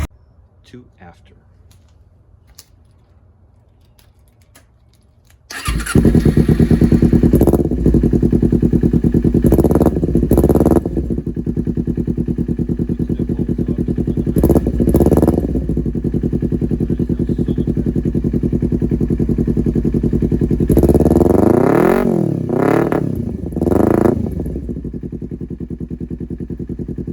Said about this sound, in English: Leo Vinci exhaust on a Ninja 250